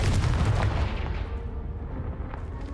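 A blasting spell in the Hogwarts Legacy game explodes against a pile of debris: one loud, close boom that rumbles and slowly fades.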